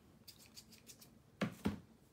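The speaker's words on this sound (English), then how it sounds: "I'm going to take my scissors." A pair of scissors trims sharp edges off paper in a journaling project, with a few faint light snips followed by two crisp, close cuts, no voices.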